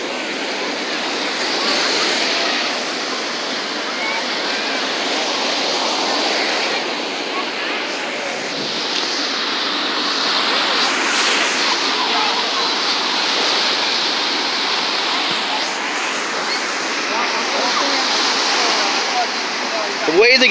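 Surf washes steadily onto Mead Beach as the tide comes in, a continuous broadband roar of breaking waves with gentle swells in loudness and no clear pauses, heard close and fairly loud throughout.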